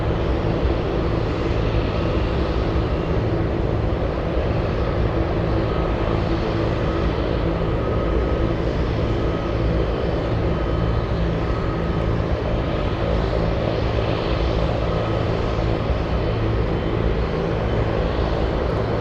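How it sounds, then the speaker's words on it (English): A Boeing 747 on its landing run at Anchorage, a loud, continuous broadband jet roar that holds steady throughout, with no voices. "Let's go for the 747 landing up."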